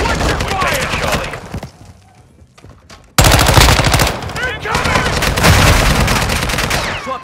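Sustained automatic machine gun fire in the video game Call of Duty: Modern Warfare, dense rapid bursts that break off for a moment before resuming loudly, with voices shouting underneath.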